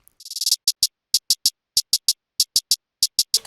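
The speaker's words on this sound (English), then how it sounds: "you draw in some really fast hi-hats and then do volume automation to give this like sweeping effect" Rapid hi-hat ticks open with a fast roll that swells in volume, then settle into a crisp, evenly spaced pattern of bright, close hits.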